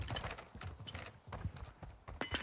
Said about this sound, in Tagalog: May naglalakad.